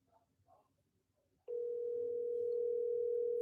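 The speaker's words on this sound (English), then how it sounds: "Really quiet ringing." A short stretch of faint background noise, then a steady telephone tone starts and holds without a break, clear and even.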